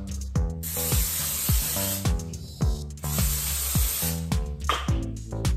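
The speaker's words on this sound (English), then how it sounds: "But first I gotta remember to spray the surface." Nonstick cooking spray sprayed onto the cooking surface of a DASH mini waffle maker: several long, close, loud hissing bursts over a repeating low rhythmic background tone, with no talking.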